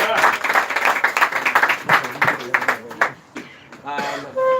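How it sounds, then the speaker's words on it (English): A crowd at a siyum celebration applauds with dense, steady clapping that fades out, a voice briefly heard near the end. "how about a round of applause for everybody who helped out tonight?"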